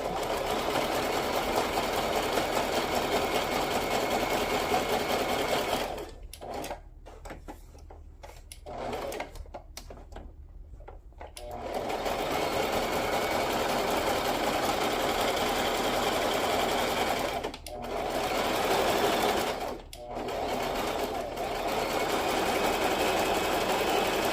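A sewing machine stitches in long, steady whirring runs, close and even, broken by a few short pauses before it starts up again.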